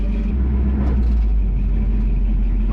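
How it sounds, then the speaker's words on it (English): A 1977 Chevrolet 4x4 truck spins a tire on grass, its engine a steady loud rumble close by with no break across the stretch. "We're smoking our tire on grass"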